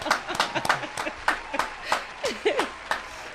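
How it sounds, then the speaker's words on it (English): Scattered audience clapping at an entertainment show, a handful of sharp claps in loose bursts with voices and cheering mixed in, fairly close. "keep the applause rolling"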